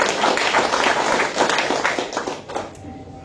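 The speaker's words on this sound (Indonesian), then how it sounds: "Tepuk tangan dulu untuk Tri-Eye." A seated business-seminar audience applauds Tri-Eye, a full, even burst of clapping that swells and then tapers off toward the end.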